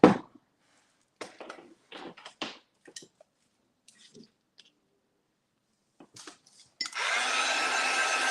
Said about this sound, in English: So I'm gonna be using a heat gun.